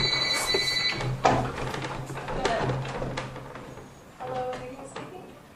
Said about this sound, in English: I just need to grab that phone.